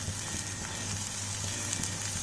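Finely chopped large onion sizzles in hot oil for a shredded chicken dish, a dense, steady hiss and crackle that stays close and constant.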